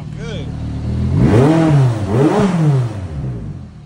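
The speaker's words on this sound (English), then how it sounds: "You can rev a little bit" A sports car engine in a tuning shop revs twice, rising and falling in pitch with a throaty growl, close and loud, with an idle rumble between.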